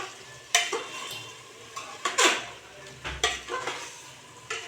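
Mutton being stir-fried on high flame, a low sizzle broken by sharp scraping strokes and clinks of a spatula against the pot at an uneven rhythm, close up and fairly loud.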